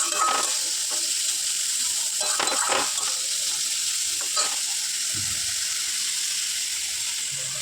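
Steady oil sizzle of chopped onions frying in hot oil in a kadai, with occasional stirring scrapes, continuous and close throughout.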